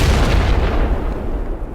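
Fireworks go off in a video game with a loud close boom that rumbles and fades over under two seconds, the blast's low roar decaying into quieter crackle.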